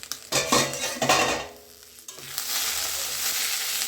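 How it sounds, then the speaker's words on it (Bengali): A pot lid comes off kundru and potatoes cooking in oil, metal clanks and stirring giving way to a steady, close sizzle of frying that fills the second half. "আমি ঢাকনাটা খুলে দেখতেছি আমার কুঁদরি আর আলুটা সেদ্ধ হয়েছে কিনা"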